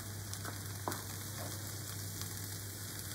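Minced garlic sizzling in hot fat, a faint continuous crackle and hiss with a few small pops over a steady low hum.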